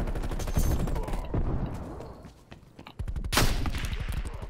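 Video game gunfire rattles in fast automatic bursts, loud and close, pausing briefly in the middle before another rapid volley resumes.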